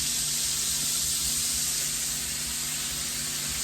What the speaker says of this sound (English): The frying noise will go down.